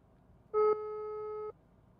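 A phone emits a single electronic call tone while a missed call is placed, one clear, steady beep lasting about a second amid quiet background.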